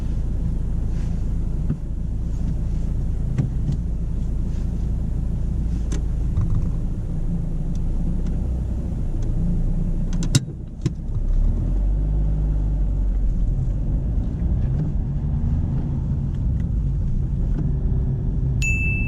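A car pulls away from a stop on a driving test, a steady low engine rumble with road and wind noise held throughout, plus a brief thump near the middle.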